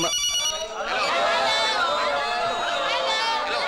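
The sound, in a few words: mobile phone ringing in movie scene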